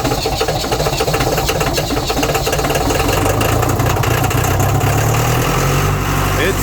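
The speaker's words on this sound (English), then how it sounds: "This one had a bad motor in it, so we put a motor on a while back ago. This thing starts no problem." A rock crusher engine with a replacement motor runs after a cold start, a loud continuous mechanical clatter and drone that holds steady and rough throughout.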